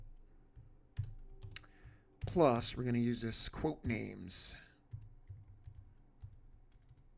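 Computer keyboard typing while writing a SQL Server query, a light scatter of key clicks before and after a person talks briefly over it.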